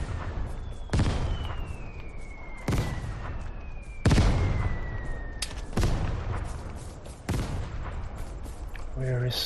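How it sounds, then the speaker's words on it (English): Gunfire in the online shooter game Vigor, with five loud, separate gun blasts spaced a second or two apart, each with a sharp attack and a rumbling decay, plus a thin whistling tone sweeping down in between. "Where is the another guy shooting at me?"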